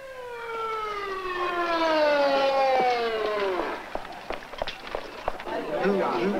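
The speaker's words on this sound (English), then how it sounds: "Ambulance en route, rear yard 1540 North College." An ambulance siren wails in steady rising and falling sweeps, loud and close, then breaks off into scattered clatter and movement noises for the last few seconds.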